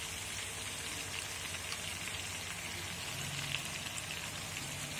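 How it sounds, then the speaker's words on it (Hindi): Mutton frying in oil with ginger, garlic, crushed red chili and cumin masala, heard as a steady, quiet, rain-like sizzle that continues evenly throughout. "ये देखें इसको अब मैं भूनूंगी"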